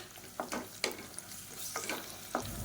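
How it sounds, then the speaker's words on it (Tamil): Ginger garlic paste sizzling in a hot pan with intermittent stirring scrapes, a steady frying hiss punctuated by several short bursts, close and moderately quiet. "இஞ்சி பூண்டு பேஸ்ட் நல்லா வதங்கிட்டு இருக்கு."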